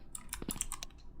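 A quick burst of computer keyboard and mouse clicks, several light, close clacks in an uneven patter lasting about a second, with no voices.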